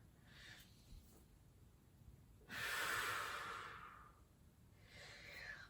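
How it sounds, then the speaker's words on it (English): Slow, steady breaths in a quiet prenatal yoga session: one long, airy exhale swells near the middle, with softer breaths before and after, close and calm, no talking. "We'll do another 2 breaths here."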